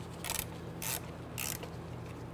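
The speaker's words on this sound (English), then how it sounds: "Now we can go ahead and tighten down the bracket bolts." A ratchet wrench tightening bracket bolts while replacing the vehicle speed sensor on a 1994–2004 Ford Mustang 3.8L V6 gives three short bursts of clicking, close and fairly quiet, with no talking.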